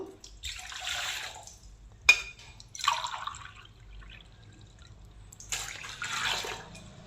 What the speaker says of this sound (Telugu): బౌల్ తీసుకొని అందులో టూ గ్లాసెస్ వాటర్ వేద్దాము